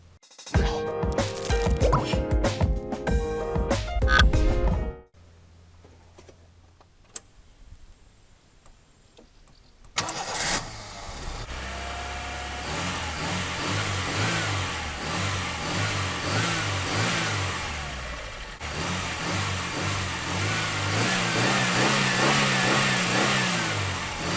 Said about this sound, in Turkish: Şimdi marş vurup aracımıza bir bakalım.